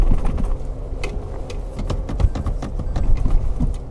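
Anti-lock braking chattering on a 2020 Toyota Hilux V6 on a steep off-road climb in second gear: rapid uneven clicking and knocking over a steady low engine rumble and tyre noise, loud and close.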